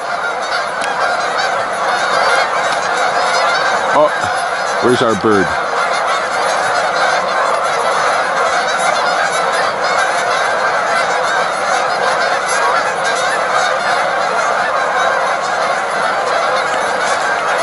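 Geese honk continuously in a large, agitated flock outdoors in the morning near an eagle nest, a dense loud chorus with a voice briefly speaking over it.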